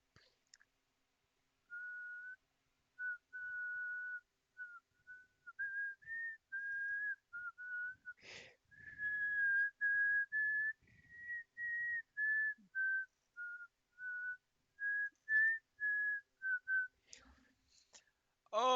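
A person whistles a wandering, sustained tune in a series of phrases broken by brief pauses, close and fairly loud, with a sharp click and some rustling partway through.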